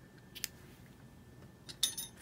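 Scissors snip through a crochet yarn tail while fastening off a bath pouf, giving two short, crisp metallic cuts, the second slightly louder, in an otherwise quiet room.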